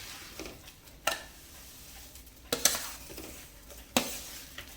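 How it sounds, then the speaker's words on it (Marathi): Semolina is stirred into hot sugar syrup with cardamom powder for rava laddu, giving a quiet sizzle broken by three sharp scraping clinks of a spoon against the pan. "ढवळत रवा घालायचा आहे"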